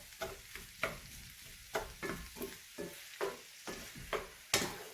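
Corned beef is stirred and broken up in a frying pan, giving a run of sharp scraping strokes and knocks about every half second over a soft, steady sizzle.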